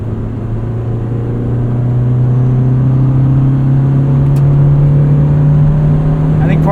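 A 1991 Honda Civic Si EF hatchback engine hums loud and close from inside the moving car, its steady tone rising gradually as it revs.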